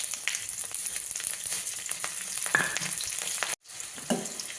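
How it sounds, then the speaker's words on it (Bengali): Bay leaf, dried chilies and panch phoron sizzle in hot oil in a pan, a steady close crackle and hiss with scraping stirs, broken by a brief silent gap near the end. "একটা তেজপাতা, শুকনো লঙ্কা আর পাঁচফোড়ন ফোড়নে দিয়ে দিলাম।"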